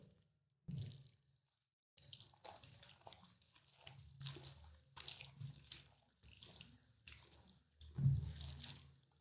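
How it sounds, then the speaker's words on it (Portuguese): Tap water running at a salon sink as shampoo is rinsed out of hair during a haircut, coming in steady splashing bursts broken by short pauses, fairly quiet and close, with no talking. "Vamos tirar o shampoo agora."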